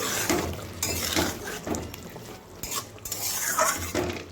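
Soya chap gravy being stirred in a pan on a gas stove, with repeated scraping and clinking of a spoon against metal and a soft sizzle underneath, close and fairly loud.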